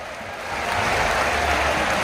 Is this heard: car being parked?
no